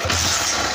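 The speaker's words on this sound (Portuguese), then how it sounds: "Vamos ligar o motor aqui." A small motor powering a 144-LED lamp runs with a steady mid-pitched hum and buzz, loud and close, holding constant for under a second with no talking.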